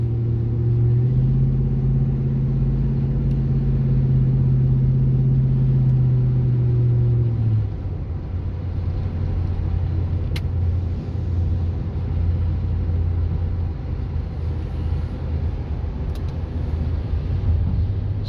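A red 2009 Ram 2500 pickup with a 5.7L engine rolls along with a steady low engine drone that drops in pitch partway through as the transmission shifts, then settles into an even cruising rumble.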